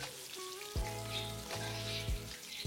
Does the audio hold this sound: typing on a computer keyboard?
no